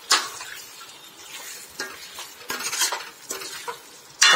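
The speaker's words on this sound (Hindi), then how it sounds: "उसको हम भूनेंगे चाप को अच्छे तरीके से" Soya chaap being roasted and stirred in a pan over a low flame: a soft bed of sizzle broken by repeated scraping spoon strokes and light metallic knocks, close and without speech.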